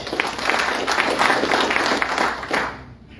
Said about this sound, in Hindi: भाई लोगों के लिए ताली हो जाए।